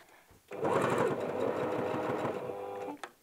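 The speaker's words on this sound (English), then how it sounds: "Just doing a back stitch just to lock it in place." A sewing machine runs one steady, close burst of rapid whirring stitches lasting about two and a half seconds while back-stitching on a ruffle shirt, then stops abruptly.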